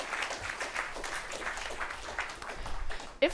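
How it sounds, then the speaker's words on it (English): Audience applause at the close of a talk on train timetable optimization after incidents, a steady wash of many hands clapping through most of the stretch, moderately distant, ending in a brief louder knock. "we have time for applause, of course"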